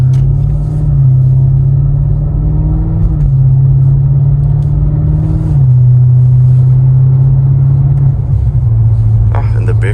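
A 2023 BMW F90 M5 Competition LCI with a 4.4-liter twin-turbo V8 drives along, its deep engine drone loud and close, stepping down in pitch through several gear changes as a voice talks over it.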